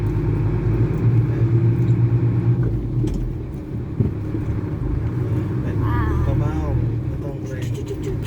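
A car's engine rumbles loudly and steadily as it accelerates, easing briefly around a gear change into second, then continuing at a steady drone.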